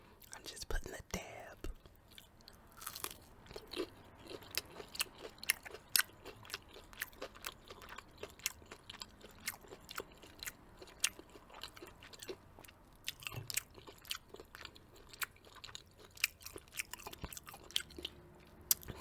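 Close-up eating of Popeye's chicken fingers with hot sauce, with repeated crunchy bites and wet chewing in an irregular rhythm, interspersed with soft whispered speech.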